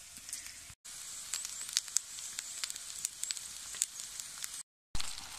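Sausages, small chips and beans sizzle in a single pot at a rainy campsite, a steady close hiss with small crackles throughout and two brief dropouts.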